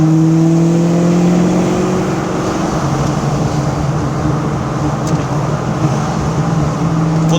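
A 1988 Mustang GT with 29,000 miles accelerates hard, its V8 engine note rising steadily and loud close by, with strong low harmonics climbing and then settling into a sustained drone throughout.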